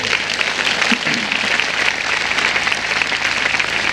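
A church congregation claps continuously and loudly for several seconds, a dense even roar of many hands filling the hall with no speech over it.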